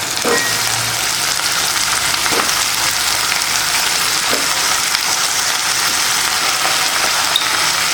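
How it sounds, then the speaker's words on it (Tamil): Onions sautéing in a pan for brinjal poriyal, a steady dense sizzle running throughout at even loudness, with a few faint scrapes of stirring and no voices. "ரொம்ப வதக்க தேவையில்லை, வெங்காயம் கொஞ்சமாக வதக்கினா போதும்"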